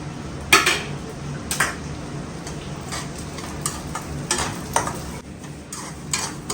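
Poppy seeds roasting in ghee in a pan for panjeeri while being stirred, with repeated close metallic clinks and scrapes of a spoon against the pan over a steady low sizzle.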